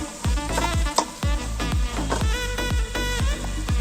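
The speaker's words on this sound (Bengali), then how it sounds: "ঝোলটা ফুটছে, টকের যে ঝোলটা সেটা ফুটছে" Tamarind sour broth for a climbing perch (khalse) fish curry bubbles in a pan, with a steady simmering hiss and a regular run of soft popping bursts close by, with no talking.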